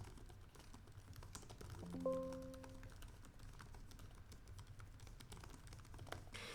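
Soft, rapid keystrokes patter steadily on a Lenovo Yoga Slim 7i Pro X laptop keyboard in a quiet room, with a brief tonal beep partway through; the clicking is close but faint.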